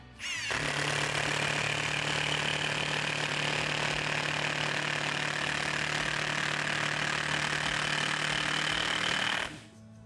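A Procraft Industrial cordless impact driver runs in one continuous loud burst of about nine seconds, a steady high motor whine with a rapid hammering rattle, starting and stopping abruptly, with no talk over it.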